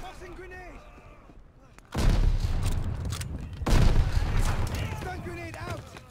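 In Call of Duty: Vanguard multiplayer, a grenade blast erupts amid gunfire. Two loud booming explosions land a couple of seconds apart, followed by rumbling and scattered shots, with a voice speaking faintly beforehand.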